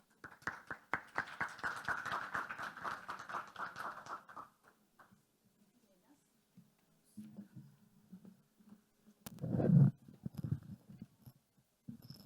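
Audience applause at a community connectivity conference panel session in Colombia, a dense burst of clapping for about four seconds that fades out, followed later by voices and a few scattered noises.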